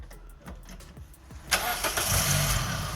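A 2006 Toyota Yaris with a newly replaced starter motor cranks briefly through soft clicks, then catches and fires into a steady running engine at close range.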